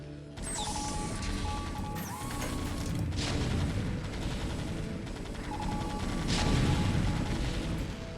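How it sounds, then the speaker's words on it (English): Explosions of missile turrets in StarCraft: Brood War, a dense run of loud crashing, crackling game blasts and gunfire layered over one another, with a couple of bigger bursts near the start and end. "Missile turret explosions are kind of fun to watch"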